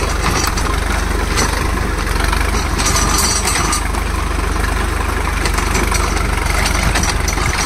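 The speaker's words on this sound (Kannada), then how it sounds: "ಬರೀ 40 HP ಗಾಡಿಗೆ 6 feet ರೋಟೋವೇಟರ್ ಹೊಡಿತಾ ಇದ್ದೀವಿ." An Ace 350 40 HP tractor engine pulls a 6-foot rotavator through a field, a loud, steady low diesel drone that holds its RPM throughout, with metallic rattle and vibration on top and no talk.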